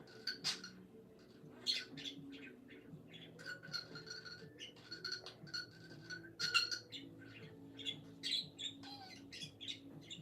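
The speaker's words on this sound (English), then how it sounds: "You do hear a bird. He is very squeaky. It is my English budgie." An English budgie squawks and chirps indoors in a rapid, irregular series of sharp, squeaky calls over several seconds, fairly faint against a low room hum.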